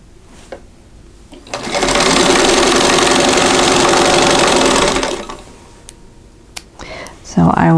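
A sewing machine stitches the corners of a quilt block in one steady, loud whirring run of about three seconds, close by, with quieter handling clicks and a voice before and after.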